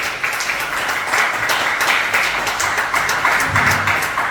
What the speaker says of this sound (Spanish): A su nombre, déle un fuerte aplauso al Señor.